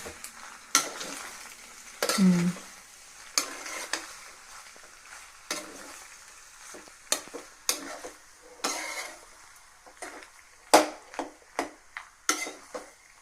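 Pasta tossed with melting cheese in a pan on a gas stove, giving a run of scraping stirs and light clinks over a low sizzle, close and moderately loud, with no talking.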